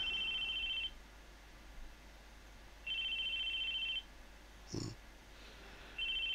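A cell phone rings in the video game ChäoS;HEAd: a bright electronic ringtone in roughly one-second bursts, repeating with short gaps over a quiet background, with no talk.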